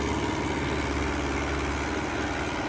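A New Holland 850 tractor engine running with a rotavator on hard farmland, a loud, steady, close diesel drone with constant low rumble and no break in the noise.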